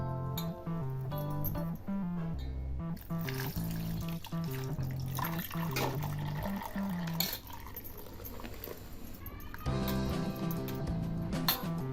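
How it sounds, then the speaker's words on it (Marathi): Grated potato rinsed in a bowl of water for fasting sabudana khichdi, with water splashing and sloshing steadily under continuous background music. "आता बटाटा हा किसून घेतलेला आहे मी आता यामध्ये पाणी टाकून धुवून घ्यायचं आहे"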